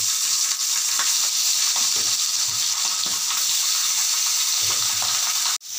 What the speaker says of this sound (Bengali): তেলটা আমার গরম হয়ে গেছে, মাছগুলো আমি একে একে দিয়ে দেব।